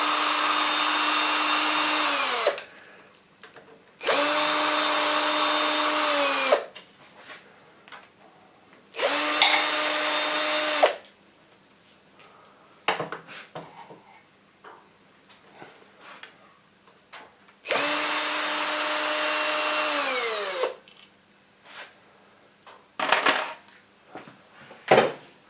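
A cordless drill spins out the four screws holding a part in a Rock-Ola 430 jukebox mechanism, four loud whirring bursts each winding down, with metallic clinks and handling noises between them.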